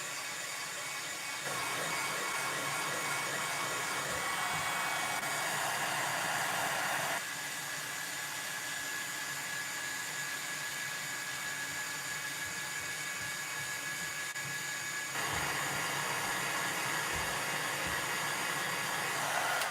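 Heat gun blowing steadily to melt rose gold embossing powder during card making, a continuous close whooshing roar that shifts level slightly a few times across the stretch, with no talking.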